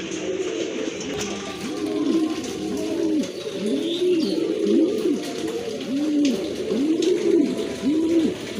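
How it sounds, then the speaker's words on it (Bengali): Domestic pigeons kept in pairs for sale coo repeatedly, a rhythmic series of close, loud rolling coos about once a second over a low background murmur, without speech. "সুন্দর এক জোড়া কবুতর"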